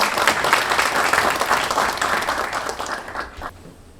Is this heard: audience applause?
yes